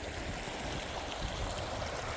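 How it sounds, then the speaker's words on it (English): Water rushes steadily through a wide, rocky creek, a continuous broadband wash close by with no voices. "It's a pretty wide creek, but there's a lot of rocks there"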